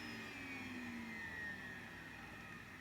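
Numatic Henry HVR200 vacuum cleaner motor spinning down after switch-off, a faint, steady whirring hum with slowly falling tones, heard alone.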